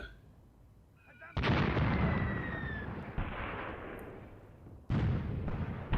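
Mortar fire in the World War II tactics game Graviteam Tactics on the Mius Front: two heavy booming blasts several seconds apart, each with a long rumbling tail, over quieter battlefield background.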